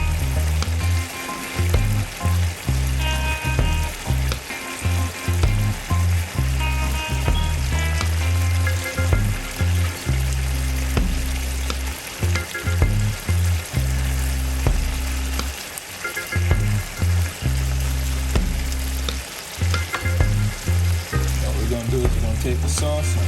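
Honey-glazed salmon sizzles in a pot of sauce, a loud steady frying hiss with stirring sounds throughout, over rhythmic background music.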